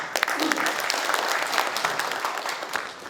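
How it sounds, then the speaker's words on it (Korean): A crowd at a Gyeongsangbuk-do provincial briefing on a regional development plan gives the provincial governor a welcoming round of dense, steady applause that fills the hall. "모두 큰 박수로 환영해 주시기 바랍니다."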